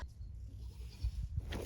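Goats bleat behind a house, one faint, brief call rising near the end over a steady low rumble of outdoor wind and background noise.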